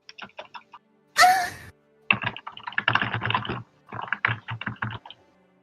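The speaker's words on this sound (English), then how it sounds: "Someone's typing." Keys clatter on a computer keyboard in quick close bursts of typing, separated by brief pauses and one louder rustling thump near the start.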